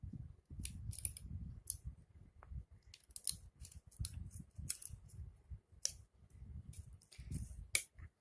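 Scissors snip repeatedly as a leaf shape is cut for a decorative bottle flower craft, a close, crisp series of irregular clicks and blade slides with short pauses between cuts.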